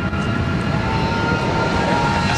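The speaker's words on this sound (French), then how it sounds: "Son fabricant a diffusé la vidéo de l'appareil décollant à fortiori d'une piste humide." A Boeing 737 MAX airliner takes off from a wet runway at Seattle on its maiden flight, producing a steady, loud jet engine roar that holds throughout without speech.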